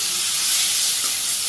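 Potatoes frying in a pan with salt, raw onion, turmeric and dried chilli powder give a steady, loud, bright sizzling hiss that holds evenly through the short moment, without talk.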